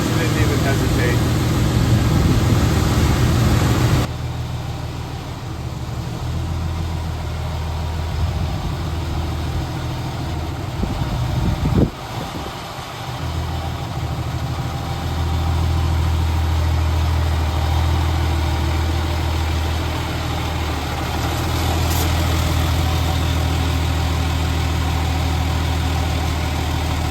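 A 2008 Ram 3500 pickup with the 6.7 Cummins diesel idles nearby, a steady, deep rumbling drone that holds throughout, dipping slightly in level after the first few seconds, with a brief knock partway through.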